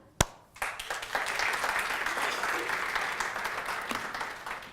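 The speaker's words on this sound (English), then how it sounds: "I applauded myself." A sharp single knock, then a burst of applause from a crowd that rises quickly and holds as steady, dense clapping for about four seconds before easing slightly.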